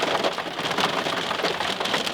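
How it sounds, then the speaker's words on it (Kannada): Heavy rain pouring steadily and loudly on surfaces around a house, a dense unbroken hiss close by, with no voices. "ಮಳೆ ಬಂತು ಅನ್ಬೇಕು."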